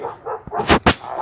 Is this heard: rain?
no